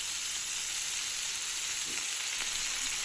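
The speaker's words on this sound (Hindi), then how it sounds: "अभी मैं आपको सिर्फ फ्राई करके दिखाऊंगी। और आहिस्ता आहिस्ता इसको हम टर्न करेंगे ताकि तमाम साइडों से ये कबाब अच्छी तरीके से पक जाए।" Malai kabab frying in a pan, giving off a steady, dense, loud sizzle that holds evenly throughout, with no talking.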